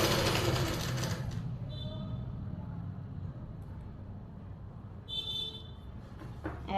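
Sewing machine running a seam to close a pocket on a palazzo pant lining, a steady mechanical whir for the first second or so before fading under quieter room noise, with brief high-pitched tones later.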